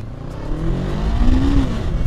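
A motorcycle engine revs up and accelerates away, its pitch rising steadily over a low rumble, close by and fairly loud.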